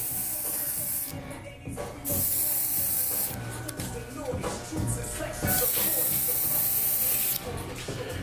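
Tomb45 No Drip barber spray hisses in several close bursts of a few seconds each during a haircut, with rubbing and handling noises between the sprays.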